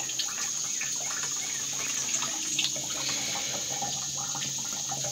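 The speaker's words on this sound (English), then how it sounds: "I'm going to drain the rest of the way." Water draining through a homemade water filter, a continuous steady trickling and splashing flow, fairly close and unchanging throughout.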